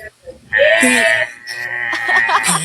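A human voice imitates the cry of a water buffalo (carabao) with a drawn-out, bleating wail, close and loud, in one long call after a brief breath.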